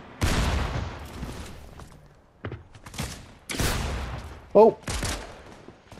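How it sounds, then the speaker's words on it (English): Gunfire from the Fortnite video game comes in several loud, sharp bursts and single shots separated by short gaps, close and punchy, with a player's brief exclamation among them. "he tried to shoot me"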